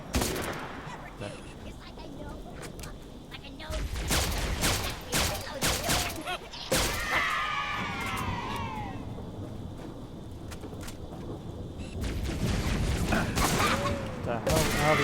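Gunfire from the video game Halo: Reach comes in repeated loud bursts and single shots mixed with game effects, with chirping alien creature sounds in the middle and a player talking briefly.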